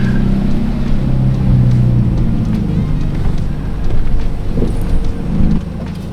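A project car's engine drones low and steady as it pulls out of a dark parking garage, the hum swelling slightly with a few small rises in revs.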